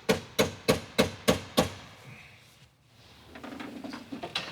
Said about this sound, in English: I'm pretty sure you're not supposed to do it with a hammer